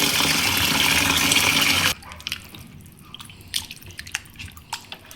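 Water runs steadily from a tap while raw chicken is washed, then cuts off, leaving scattered drips and splashes as the chicken is handled.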